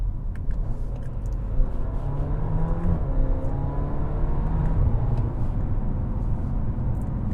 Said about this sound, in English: you do hear some of that exhaust note. It does give you a nice little DSG fart.